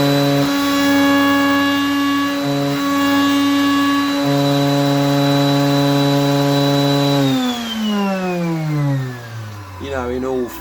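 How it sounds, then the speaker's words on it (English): A router with a worn cutter shapes a hard maple Stratocaster-style guitar body in a late-'60s Strat build: a loud, steady high-pitched motor whine that, near the end, drops in pitch as the tool spins down and stops. "I'll just route that a little bit there."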